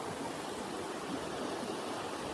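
A river rushing over rapids in the Foothills Trail backcountry, a steady broadband roar of churning water filling the whole clip at moderate level with no voices.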